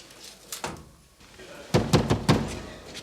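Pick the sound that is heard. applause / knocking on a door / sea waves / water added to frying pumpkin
knocking on a door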